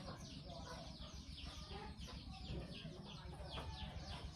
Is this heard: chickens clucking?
yes